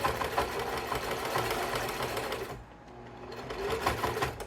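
A sewing machine stitching fabric, a steady close mechanical whir that runs continuously, briefly slowing and dipping before picking back up.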